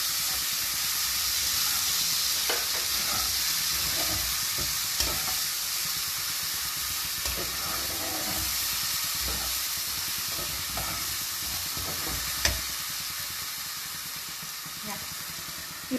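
Masala spices sizzle and fry in a hot pan with steady hissing, while a utensil scrapes and clicks as the mixture is stirred, close and continuous throughout.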